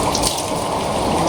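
Cold, clear spring water gushing and splashing steadily and loudly up close, as handfuls are poured over a face in the Pakistani outdoors.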